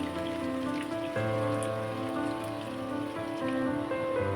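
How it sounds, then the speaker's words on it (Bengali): Potatoes sizzle and crackle in hot mustard oil in a frying pan, a steady dense spitting hiss that swells louder partway through, heard alone without talk. "ফ্রাইং প্যানে তেল গরম করে সর্ষের তেল গরম করে আলুগুলো ভেজে নিতে হবে"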